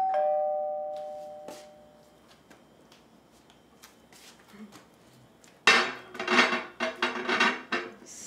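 A doorbell rings with a clear chime at the start of a Halloween ding dong ditch prank, fading out before a burst of loud clattering and rustling noises follows.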